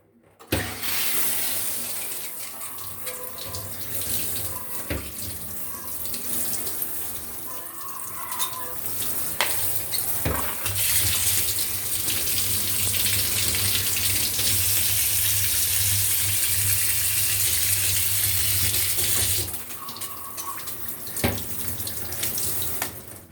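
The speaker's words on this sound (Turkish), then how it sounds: "Soğuk suyu açalım bakalım." Cold water runs from a tap in a continuous, close gushing stream that holds steady for most of the clip and briefly changes tone near the end.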